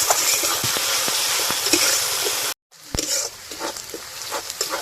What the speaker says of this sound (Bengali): আদা আর রসুন পেঁয়াজের সঙ্গে আবারও খুব ভালো করে ভেজে নেব যতক্ষণ না আদা রসুনের কাঁচা গন্ধ যাচ্ছে